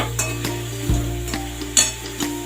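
Prawns fry in a kadhai with ground masala paste for a Malvani-style curry, giving a steady close sizzle broken by regular scraping stirs of the spoon against the pan. No voices.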